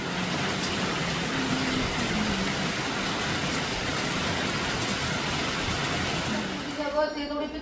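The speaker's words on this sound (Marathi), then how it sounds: "धुवाधार पावसाने आजची सुरुवात झालेली आहे" Heavy rain pours down outdoors in a village, a dense, steady roar of falling water that continues throughout. The sound briefly shifts near the end.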